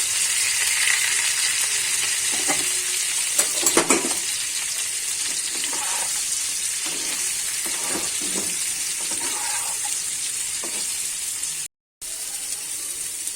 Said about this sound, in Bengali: এবারে এঁচোড়গুলোকে আমি ভেজে নেব।